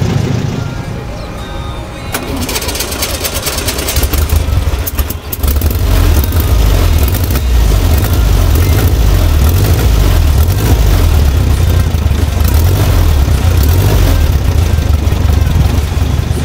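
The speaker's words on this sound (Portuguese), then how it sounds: "Segura aí no motor lá atrás ligando na hora." Rear-mounted Volkswagen Beetle (Fusca) engine, sitting unused for eight months, cranks and catches after a new battery is fitted, then settles into a loud, close, rumbling idle that runs steadily to the end.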